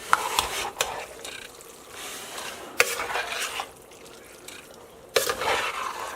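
Meat and beans being stirred together in a big pot for chili, with a spoon scraping and clanking against the pot in several bursts between quieter stretches of soft sizzling.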